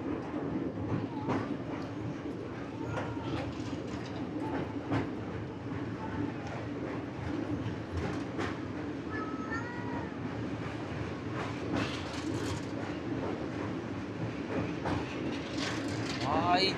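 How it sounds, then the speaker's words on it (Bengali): A train rounds a bend through cut hills in light drizzle, a continuous rolling rumble at moderate distance, with excited voices talking over it throughout. "ভাই যাচ্ছে ট্রেনটা বাঁক নিয়ে আসছে দেখো"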